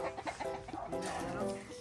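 Chickens cluck softly in short, irregular bursts, quiet and close, with faint background noise throughout.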